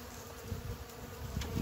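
Honeybees buzz around a frame from a hive being prepared for winter, a close, steady hum with small bursts of louder wingbeats.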